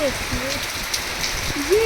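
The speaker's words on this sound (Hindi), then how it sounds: "अब बारिश और तेज होने लग गई है।" Heavy monsoon rain pours steadily in Dehradun, a dense, continuous hiss close by with occasional brief tonal squeaks over it.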